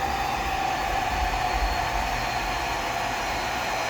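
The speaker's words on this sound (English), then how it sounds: "It sounds like one's spinning down" Motors of an FPV racing drone whirring steadily at close range, a sustained buzzing hum with a constant low rumble and no talking.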